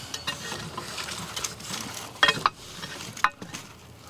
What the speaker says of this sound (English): let's just stir it up a little bit